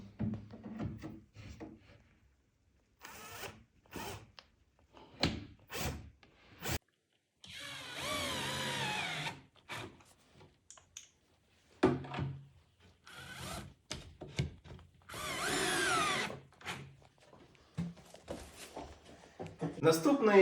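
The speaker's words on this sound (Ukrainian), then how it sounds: "закручуємо також за допомогою конформатів до дна нашого комоду" A power screwdriver drives confirmat screws into the bottom panel of a wooden chest of drawers during assembly, in several short whirring bursts and a few longer runs, separated by pauses, clatter and someone talking.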